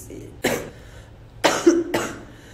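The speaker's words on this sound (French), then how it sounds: "je me suis jamais arrêtée de tousser, je toussais" A woman coughs in three harsh, close bursts, with one single cough followed by two more about half a second apart, and quiet gaps between them.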